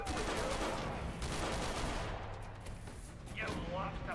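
Video game gunfire aimed at the player: dense, rapid shots crackle nearly nonstop and loud for about four seconds, with a brief quieter dip partway through and a voice speaking over the shooting.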